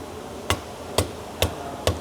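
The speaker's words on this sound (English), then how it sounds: "Ball peen hammer. Let's do it." A ball peen hammer strikes metal up under the dash of a 2019 Ford 6.7 diesel truck, four sharp, evenly spaced blows about half a second apart, moderately loud over a quiet background.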